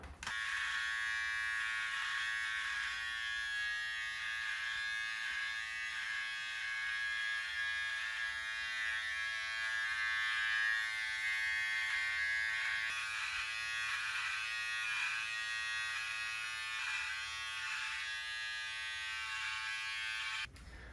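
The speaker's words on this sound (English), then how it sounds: "So I'm going to use my trimmer facing down, pulling the hair away and creating the bottom line." A Wahl electric trimmer buzzes steadily and close as it cuts hair along the bottom of the neckline, a continuous bright motor drone with slight wavering as it moves against the hair.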